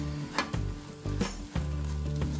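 Soft parotta shredded with chicken and gravy on a hot street-food pan, stirred in a few scraping strokes over a continuous sizzle, close and fairly loud, no voices.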